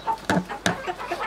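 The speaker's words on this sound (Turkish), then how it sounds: "Bir tavuk daha atacağım oraya." A chicken clucks in a few short, close calls, with two sharper bursts in the middle of the brief moment.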